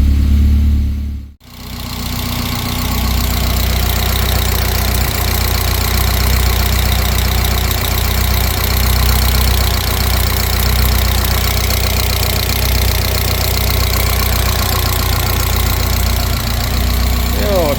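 Alfa Romeo JTS petrol engine idling around 800 rpm during camshaft timing adjustment, a steady close rumble that runs continuously with a brief dropout near the start.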